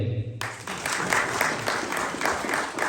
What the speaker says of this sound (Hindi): आप लोगों के लिए भरपूर तालियां होनी चाहिए